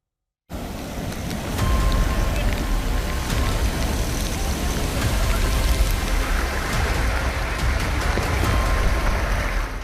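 Heavy rain pours down steadily during flooding in Maharashtra, a dense, loud wash of drops that begins abruptly and continues without a break, with no talking.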